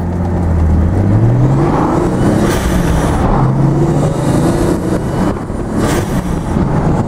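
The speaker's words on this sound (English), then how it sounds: "we'll get into a couple pounds of boost here, merged onto the highway" A turbocharged ZX car accelerates hard on a highway under a few pounds of boost, its engine note climbing through the gears with a steady loud whir and road roar from inside the cabin.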